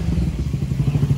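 Honda XRE 300 motorcycle fitted with a Dore exhaust, a loud close engine rumble with a pulsing, popping low exhaust note over a brief burst.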